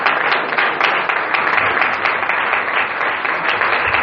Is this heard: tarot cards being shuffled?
no